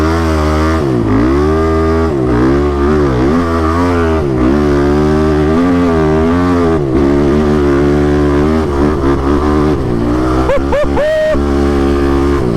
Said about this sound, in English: This engine wants to rev so fast.